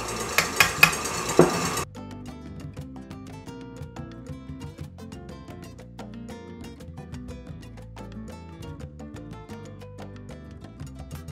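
Pionono sponge cake batter is beaten in a bowl as sugar is added, a steady quick ticking and clinking that runs on after a brief louder clatter at the start.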